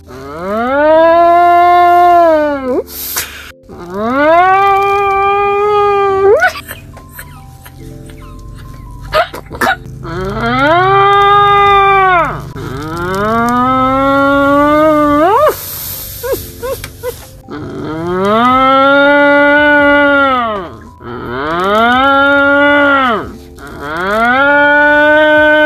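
Cows mooing in a series of long, drawn-out, rising and falling calls, loud and close, with short pauses between them and no talking.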